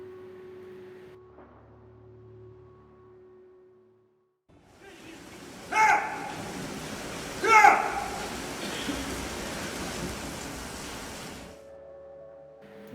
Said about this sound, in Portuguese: Nesta cena, temos o efeito real de uma chuva.